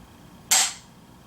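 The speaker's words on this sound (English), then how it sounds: "Third trigger pull." A trigger pull on a Ruger factory rifle fitted with a C&A Tactical Designs trigger gives one sharp, bright snap that decays quickly in a quiet room.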